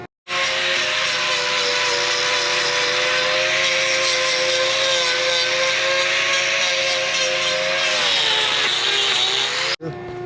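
A handheld power tool trims a cow's hoof, running as a loud, steady, high-pitched grinding whine close by for nearly the whole stretch before cutting off abruptly near the end.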